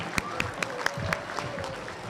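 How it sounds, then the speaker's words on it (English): A small group at a quarter awards assembly gives one last round of applause, a thin, fairly quiet patter with a few sharp individual claps standing out and faint talk underneath. "one last round of applause for the amazing work that they've done"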